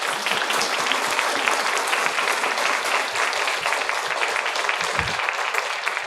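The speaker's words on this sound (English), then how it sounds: "Yeah, please, round of applause." Audience at a poetry panel breaks into sustained, dense applause, many hands clapping steadily and loudly throughout with no talk over it.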